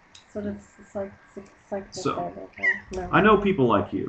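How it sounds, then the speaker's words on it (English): A pet cat meows several times in short repeated calls at close range, mixed in with a person talking. "And that's our cat, by the way"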